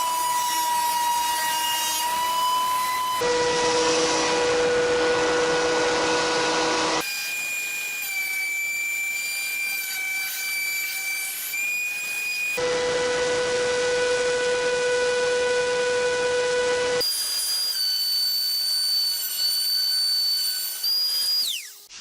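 A loud planer machining a wood moulding on a planer sled, a sustained whining roar whose pitch shifts in several distinct steps as the cut load changes.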